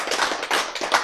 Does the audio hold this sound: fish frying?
no